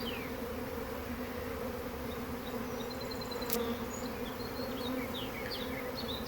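A honey bee swarm hums in a continuous, even drone during a swarm catch outdoors, with a few higher bird chirps scattered over the steady buzzing.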